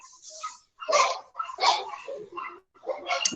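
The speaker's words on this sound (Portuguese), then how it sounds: "peço desculpa pelos animais latindo aí" Dogs bark in a series of short, sharp bursts, several close barks spaced irregularly with brief silences between them, heard fairly near against a quiet indoor background.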